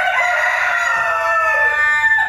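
Chickens in a yard in the late afternoon, a rooster crowing loudly and close, with clucking beneath it in a short continuous burst.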